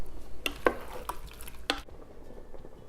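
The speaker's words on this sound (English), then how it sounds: "there's the sauce bubbling away," Fresh tomato sauce cooks in a pan with a faint, low simmering sizzle, broken by a few sharp clinks and scrapes of a utensil against the pan.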